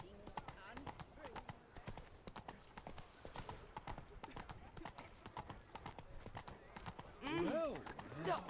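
Roach the horse trots in The Witcher 3: Blood & Wine, hooves clip-clopping in a steady, close rhythm throughout, with game voices and ambience running underneath.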